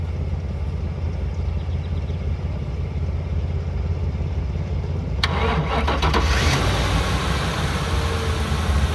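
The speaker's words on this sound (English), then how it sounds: "let's hit the starter and see what it does" A 2003-2005 Ford Crown Victoria with a newly replaced alternator cranks briefly, then its V8 fires and settles into a steady, close idle.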